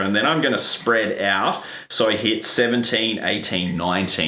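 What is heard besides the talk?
No everyday noise stands out behind the speech.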